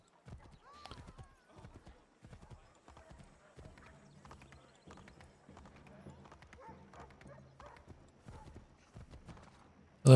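Horse hooves in Assassin's Creed III clip-clopping in a steady trotting rhythm, crisp and close, with a brief whinny early on and faint game sounds underneath.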